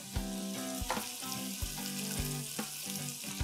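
Surti papdi beans sprinkled with masala sizzle in a hot pan over a reduced flame for undhiyu, a loud, steady frying hiss punctuated by periodic soft knocks.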